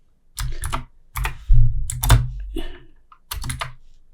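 Typing on a computer keyboard during HTML coding work, several bursts of quick, close key clatter separated by short pauses, loud and alone with no talking.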